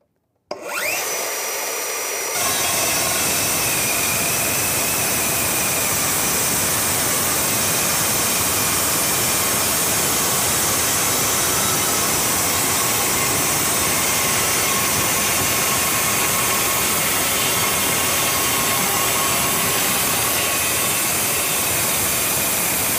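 A Bosch GCD 18V-355 Professional metal chop saw spins up and cuts, giving a loud, steady high-pitched whine and grinding roar that holds without a break for about twenty seconds.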